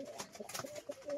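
Pigeons coo softly in a short, low, rounded burst. The calls are faint and close-ish, with no talk over them.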